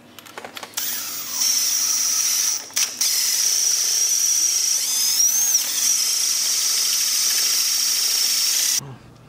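A drill runs at high pitch, cutting out a damaged head bolt thread in a Toyota engine block. It whines loud and steady for several seconds, dips briefly partway through, then stops abruptly.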